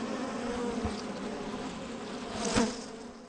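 A honeybee buzzes close by with a steady, fairly quiet drone that swells briefly louder near the end as it moves nearer, heard alone in an outdoor spring apiary.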